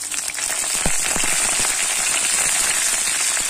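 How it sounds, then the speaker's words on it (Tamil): Mustard seeds, chana dal and urad dal splutter in hot oil, a steady dense crackle and sizzle with scattered sharp pops, close and continuous throughout. "எண்ணெய் சேர்த்தி கடுகு கடலப்பருப்பு உளுத்தம்பருப்பு சேர்த்திருக்கேன். இது நல்லா பொரிய ஆரம்பிச்சிருச்சு"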